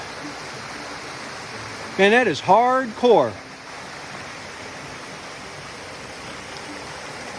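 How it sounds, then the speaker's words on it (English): A waterfall cascading along the Appalachian Trail gives a steady broadband rush of falling water throughout, while someone speaks briefly over it midway. "Look at that waterfall."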